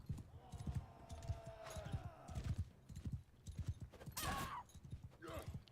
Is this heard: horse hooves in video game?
yes